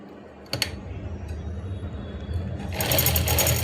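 A sewing machine runs close by while stitching a belt, starting with a few clicks and building into a fast, rattling whir in the final second.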